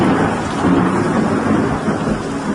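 A thunderstorm roars with a dense, loud wash of heavy rain, and a low rumble of thunder rolls steadily underneath through the short stretch, with no voices.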